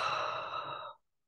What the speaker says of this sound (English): perhaps take a nice deep breath